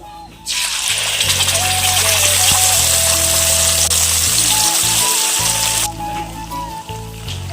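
Ground spice paste hitting hot oil in a pan for potol curry, after whole cinnamon, cloves, peppercorns, cardamom, cumin and bay leaf, a loud steady sizzle with a low hum and faint tonal whines underneath.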